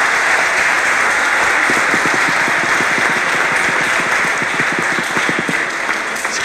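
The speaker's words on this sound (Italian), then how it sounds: "Applauso alla suor Sara." A dense, steady burst of audience applause for Sister Sara at a youth cathedral gathering, loud and sustained throughout with individual claps blending into a continuous roar.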